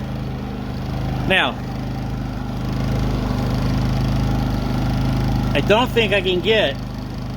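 A Predator 3500 generator runs at a steady, fairly quiet drone with a low tonal hum, while someone talks over it.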